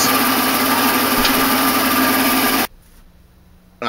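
A new 2x72 knife belt grinder motor runs loud and steady with a high whine for nearly three seconds, then cuts off abruptly, leaving a quiet hum before a faint restart at the end.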